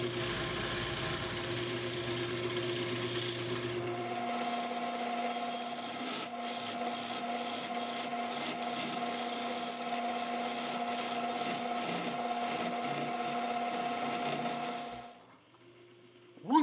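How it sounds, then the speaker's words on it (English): A 1/8-inch parting tool cuts a mortise into a wood blank spinning on a lathe, giving a steady, close scraping rub with a sustained tonal whine that holds for most of the clip, then stops abruptly near the end. "Here, I'm using a 1/8-inch parting tool to make the cut."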